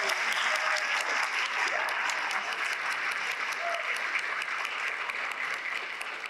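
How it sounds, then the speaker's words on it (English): A spring concert audience applauds a community band and students, a dense, sustained wash of clapping filling the hall and tapering slightly toward the end. "Can we give another round of applause for that incredible community band and those wonderful students?"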